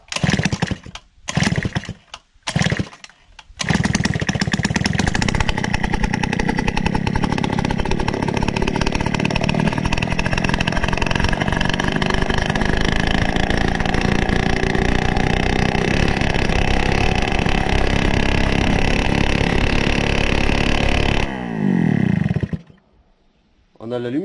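Gilera Stalker scooter engine, long out of service, starts with a few sputters, then runs steadily and loudly, revving on its own without a throttle input, before cutting out near the end.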